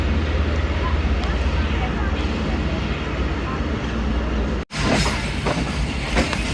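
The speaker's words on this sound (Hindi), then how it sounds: "और गुजरात से हमारी ट्रेन का डिपार्चर हो गया जी।" Rehman Baba Express passenger train rolling on rails after leaving Gujrat, a steady broad rumble and rush of wheel noise heard from on board, with a brief momentary dropout partway through.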